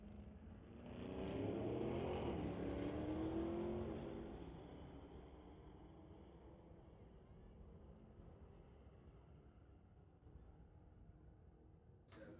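A 2024 Corvette and a sedan launch side by side in a heads-up street-legal drag race at a raceway, engines swelling into a loud roar that peaks early and then fades to a steady distant rumble.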